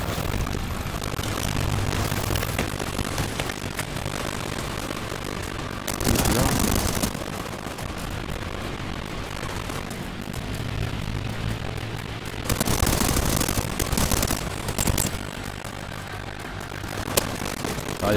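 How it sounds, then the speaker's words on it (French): A turret drone flies and fires in The Division 2, a steady droning engine-like whir running throughout with two louder bursts, under ongoing game sound. "Il y a une petite drone tourelle là."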